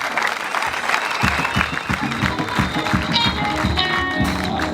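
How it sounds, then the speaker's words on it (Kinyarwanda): A church congregation at a unity church leader installation ceremony applauds, rhythmic group clapping building after a brief quiet start and continuing steadily, loud and close. "Komera Imana amashyi."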